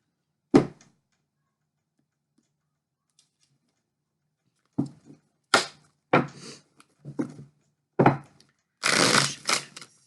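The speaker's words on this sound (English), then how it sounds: "Shuffling the cards, they're not coming together very well." Cards riffle and snap in short bursts after a long pause, crisp and close, ending in a longer flurry of shuffling.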